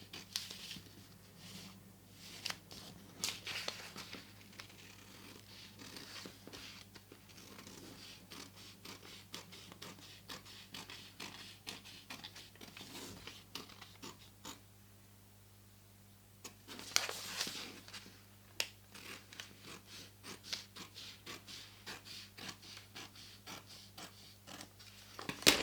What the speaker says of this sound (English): And then I cut it again along the first stitching line.